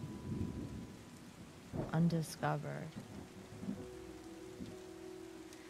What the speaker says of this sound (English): I couldn't figure out why I was hearing thunder.